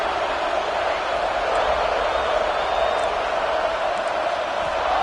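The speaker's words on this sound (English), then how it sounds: "listen to this crowd noise. This stadium is vibrating." A roaring football stadium crowd at a Florida vs Auburn game, a dense and steady wall of cheering and noise that stays loud throughout.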